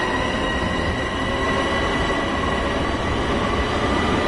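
Loud, continuous roar of an electric commuter train rolling along in Train Sim World 2, dense rail rumble with a thin motor whine, steady throughout and free of talk.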